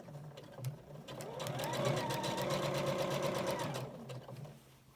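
A domestic sewing machine stitching a knee blanket runs in one steady burst of rapid, even mechanical chatter for about three seconds, close and clear, then winds down, with a few handling clicks around it.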